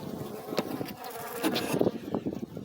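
Honeybees in an open hive, a queen castle with only two frames on each side, buzz in a dense, continuous hum with individual bees droning close by.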